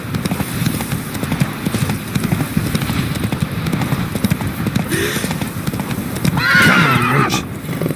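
Roach, a horse in The Witcher video game, clip-clops along steadily up close, then lets out a loud neigh and whinny near the end.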